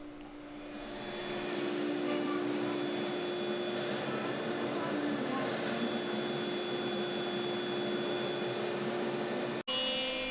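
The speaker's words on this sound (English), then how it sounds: "the frame is cut to its finished size, again using the 1/4-inch compression bit" A CNC router with a 1/4-inch compression bit cuts a wooden cabinet door frame to size, making a loud, steady whine and roar that holds throughout and stops abruptly near the end.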